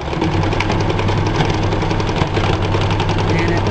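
A sewing machine stitching baby quilt seams runs in a loud, steady, continuous mechanical hum with a faint rhythmic chatter throughout.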